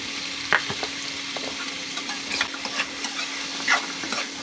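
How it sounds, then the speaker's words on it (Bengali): Jackfruit seeds frying lightly in oil in a pan, a soft steady sizzle with occasional stirring clinks and scrapes, close by and without talk. "প্রথমে কাঁঠালের বিচি থেকে একটু তেলের মধ্যে হালকা করে ভেজে নেব"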